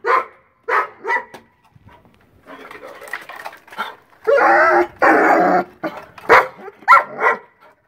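A dog barks in short bursts, some sharp single barks and some longer growling barks and yips, loud and close, with brief pauses between.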